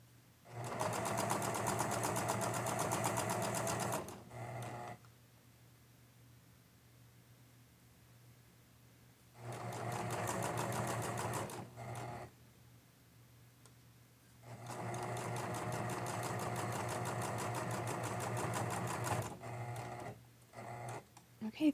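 Sewing machine stitching the armhole of a 1950s-style dress bodice, running in three bursts of steady whirring separated by quiet pauses, close and clear.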